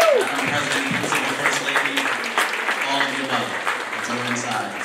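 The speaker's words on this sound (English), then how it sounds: "Round of applause." A parent-night audience in a school setting gives a round of applause, moderate clapping carrying on steadily for several seconds, with a voice briefly heard at the start.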